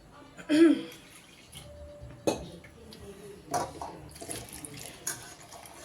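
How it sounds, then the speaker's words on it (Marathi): Water splashes and trickles into a cooking pot on the stove in a few short bursts, with light clinks of a vessel between pours, close and fairly quiet. "आता ह्यात आणखी थोडंसं पाणी टाकायचं."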